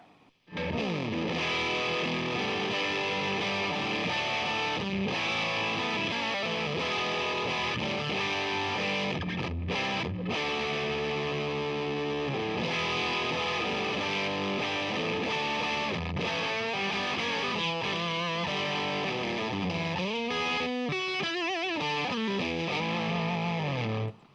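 Heavily distorted electric guitar through an HP2 fuzz pedal on its higher-headroom right side, playing chords and riffs, loud and continuous throughout with a thick fuzzy texture and short breaks.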